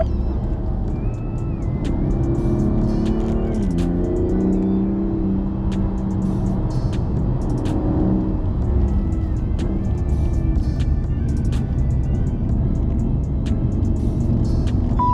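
BMW M2 Competition on a test track at a driving center: a steady, loud engine drone from inside the car with shifting pitch as it accelerates and eases off, along with a continuous whir of road noise.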